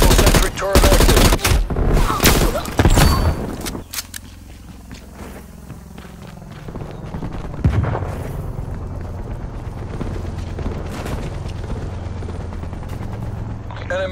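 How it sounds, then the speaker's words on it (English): A hostile sentry turret in Call of Duty Black Ops Cold War firing loud rapid bursts at the start, then a quieter stretch before scattered shots and a sustained rumble of battle resume. "Hostile sentry turret active."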